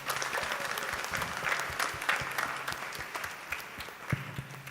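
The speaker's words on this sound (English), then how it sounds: "Let us all applaud this brave young boy." School auditorium audience clapping for a Grade 4 boy's character in a Malgudi Days play, a full, sustained round of applause with scattered sharper claps, heard from within the crowd without talk.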